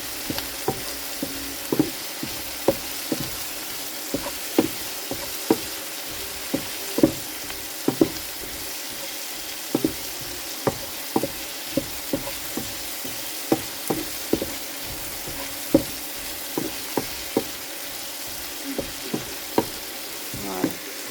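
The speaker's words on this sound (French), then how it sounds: "Je fais bien revenir." Food sizzles steadily in a frying pan while onions and other ingredients brown, with frequent sharp clicks and scrapes of stirring throughout; no voices.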